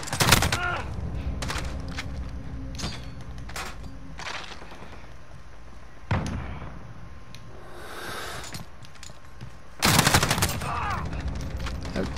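Gunfire from a gun in Call of Duty: Modern Warfare cracks out in sharp, loud bursts, a few separate shots and a rapid cluster near the end, with quieter game ambience in between.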